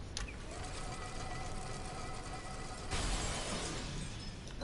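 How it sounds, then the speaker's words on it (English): Glass shatters in Lego Marvel's Avengers, a bright crashing burst followed by a dense, tinkling spray of falling fragments that fills the whole stretch, loud and close. "And also for breaking glass"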